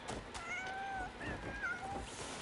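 A cat in the video game Crimson Desert lets out a string of several short meows, close and clear, over a low background hum of game ambience.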